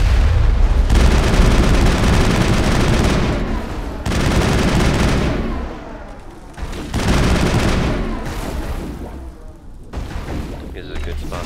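Gunfire and grenade blasts in the Mass Effect video game, loud dense bursts of rapid shots and booming impacts in several waves separated by brief lulls, with a voice speaking between them.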